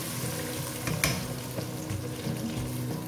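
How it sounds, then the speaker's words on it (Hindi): Spices frying in a pan for pepper chicken, a steady dense sizzle and crackle from start to finish, with a brief louder flare of hissing about a third of the way through and no talking. "सारे मसाले मैंने इसके अंदर डाल दिए हैं, और अब हम इसको थोड़ा सा भून लेंगे।"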